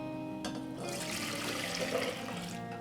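White distilled vinegar pours for a pickling brine, a close, steady splashing stream of liquid running for a couple of seconds, quiet and continuous.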